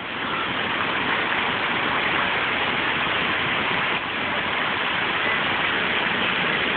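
Hail falling outdoors during a storm, a dense, continuous hiss of countless impacts at an even, loud level with no pauses.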